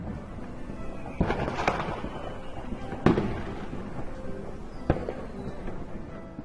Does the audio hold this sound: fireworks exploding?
yes